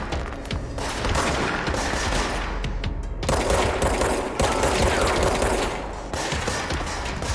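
Dense, loud gunfire from the action game Control rattles almost nonstop in overlapping bursts, with brief dips before the firing surges again.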